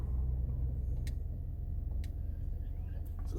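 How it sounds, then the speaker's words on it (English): The Deluxo flying car in GTA V on PS4 gives a steady, low engine rumble that holds throughout, with a few sharp clicks spaced about a second apart and no one talking. "I'm gonna get my Deluxo, which is my flying vehicle here"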